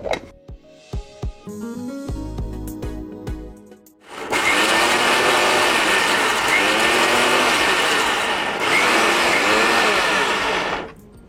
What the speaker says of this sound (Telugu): ఇవి మిక్సీలో వేసుకొని వద్దాం